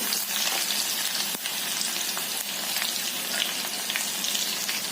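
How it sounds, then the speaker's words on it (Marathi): A South Indian-style tempering of mustard seeds, cumin, curry leaves and garlic fries in hot oil, giving a loud, steady, dense sizzle with faint crackles and pops throughout and no talk. "थोडस कोथंबीर फोडणी छान परतून घ्यायचं"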